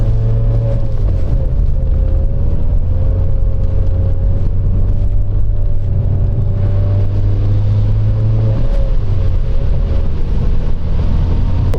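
A rear-wheel-drive 2008 Mazda MX-5 GT (NC) ploughs through deep snow in a blizzard, its engine droning steadily from inside the cabin with a low, continuous rumble and slight shifts in pitch throughout.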